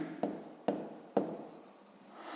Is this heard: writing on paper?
yes